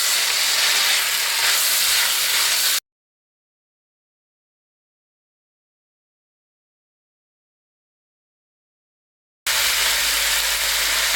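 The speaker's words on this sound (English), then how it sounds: "we want to sear this very quickly for about 2 minutes" Mutton searing in a karahi, a steady hiss of frying at the start and end, interrupted by a long stretch of complete silence.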